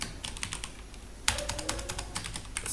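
Computer keyboard typing code, a quick close patter of keystrokes with a louder burst of clacks midway, no talk.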